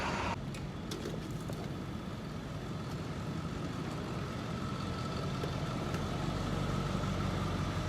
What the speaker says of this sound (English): These loud diesel trucks are quite annoying